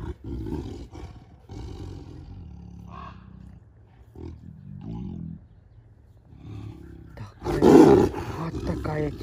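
Two tigers kept together roar, with several low rumbling grunts building to one loud, close roar near the end; some human talk is heard between the calls.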